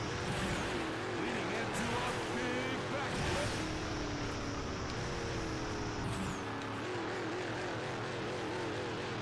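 A monster truck engine boosts in the video game Monster Jam: Path of Destruction, a loud, continuous roaring drone with a rising whine. A voice talks over it.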